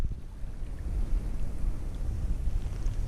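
Wind buffets the microphone out on the water during a kayak trip at Live Oak Landing, a steady low rumble that swells and holds close and loud, with no voices.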